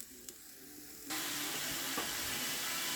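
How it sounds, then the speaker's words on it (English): Food simmering in a cast iron pan over an outdoor propane burner, a quiet start that jumps into a steady, close sizzling hiss which carries on unbroken. "Just lovely simmering away. Can you hear the simmer on that?"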